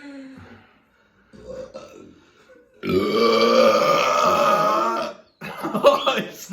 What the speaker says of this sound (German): Hat der gerülpst.